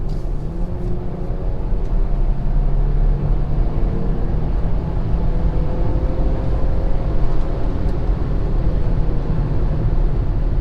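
A 2020 Ford Explorer ST accelerating to merge onto a highway, steady loud engine and road drone from inside the cabin with rising engine tones, no talking.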